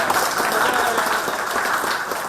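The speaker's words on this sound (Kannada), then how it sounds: "ಅವರು ಕೂಡ ಜೋರಾದ ಚಪ್ಪಾಳೆಯೊಂದಿಗೆ" Audience at a contract workers' meeting applauds, a dense continuous wash of clapping from a crowd, steady and fairly loud throughout the short stretch.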